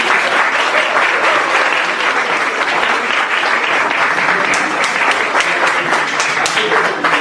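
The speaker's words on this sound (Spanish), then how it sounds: "pero un aplauso para" Audience at a university legal sociology conference in a law faculty applauding steadily, a full, loud roll of many hands clapping that keeps an even density throughout, with a few sharper individual claps standing out.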